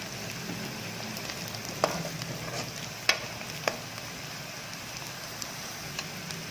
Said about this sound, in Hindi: ये देखिए मैंने ऑयल के अंदर जो है प्याज डाल दी है।